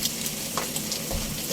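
Papaitan, a Filipino bitter stew, is stirred in a cooking pot: a steady sizzle and bubbling with soft scraping stirs, moderately close and without talk.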